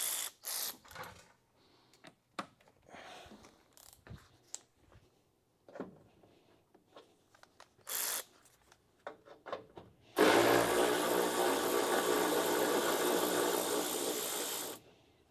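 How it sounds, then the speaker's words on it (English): An electric ratchet working under a crew cab Charger during restoration runs in one sustained, loud whirring burst for about five seconds near the end, after a stretch of scattered clicks and clanks from handling tools and parts. "I'm getting the electric ratchet"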